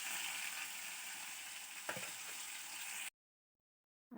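Fish fries in a pan with a faint, constant crackling sizzle and one brief stir or clink midway. The sound cuts to silence near the end, and no one speaks.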